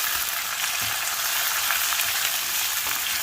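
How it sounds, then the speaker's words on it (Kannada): Onions frying in oil in a pan for upma, a steady, close, loud sizzle that holds evenly throughout with no talking. "ಈಗ ಈರುಳ್ಳಿ ಹಾಕ್ತಾ ಇದ್ದೀನಿ."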